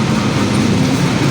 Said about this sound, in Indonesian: lanjut kita menuju Kutoarjo naik kereta api